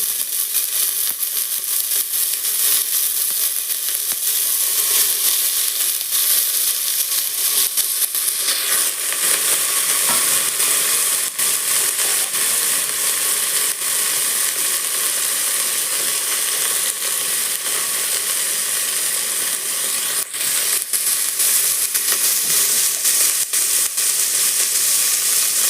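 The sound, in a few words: valor beans sizzling and stirred in pan for undhiyu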